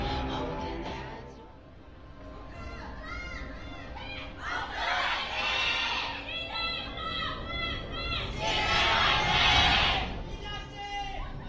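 A large esports crowd at an LCK League of Legends match cheers and shouts in swelling waves, loud and roomy, with caster talk running beneath.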